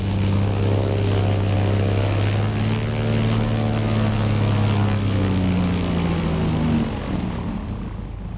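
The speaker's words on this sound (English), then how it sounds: "Bishop Leo Arkfeld travels his diocese of Wewak in a Cessna 180." A Cessna 180 light aircraft drones in flight over remote New Guinea, its propeller engine a loud, steady, close hum with throbbing harmonics that dip slightly in pitch near the end.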